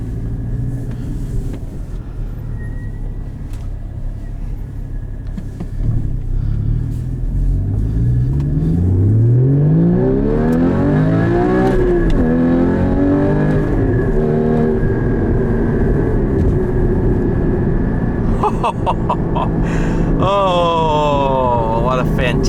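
A 2016 Porsche Cayman GT4 engine builds from a low idle into loud rising revs with several climbing pulls and a blip at the end, heard from inside the cabin.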